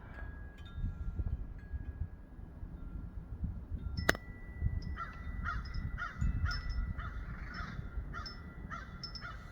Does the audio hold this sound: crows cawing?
yes